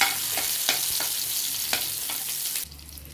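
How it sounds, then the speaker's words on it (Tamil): Green chilies frying in oil in a pan for chicken uppu curry, a strong continuous sizzle with occasional scraping stir strokes, close and loud, then the sizzle drops off sharply near the end. "பச்சை மிளகாய் போட்டுட்டு ஒரு பரட்டு பண்ணிட்டு இருக்கும்"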